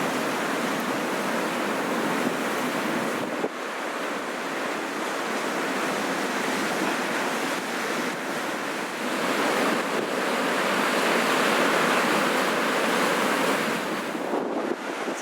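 Ocean waves break steadily on a very large beach near Tea Gardens and Hawks Nest, a continuous loud roar of surf with wind buffeting the microphone throughout.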